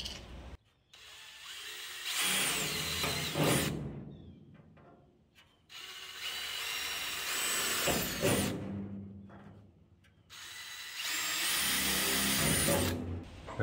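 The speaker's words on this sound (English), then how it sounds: "I'm gonna drill it just with a smaller bit to start with" A power drill boring pilot holes through the sheet-metal front inner wheel tub of a 1966 Ford Bronco: three long whining bursts, loud and close, separated by short pauses, with no talking.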